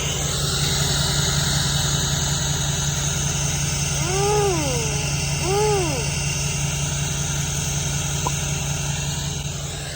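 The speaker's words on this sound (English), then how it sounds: "just listen to that 5-inch straight pipe" Duramax diesel pickup with a 5-inch straight pipe exhaust idling steadily, a constant low rumble with a faint whine over it, heard alone without talk.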